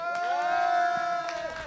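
One sustained, shrill cheering voice rises and holds over a small crowd's excited shouts, brief and fairly close, at an Overcooked 2 competition broadcast.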